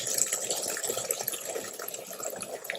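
Water pours and splashes from a homemade backyard garden rain barrel, a steady, moderately close trickling stream that runs for the whole moment without talk.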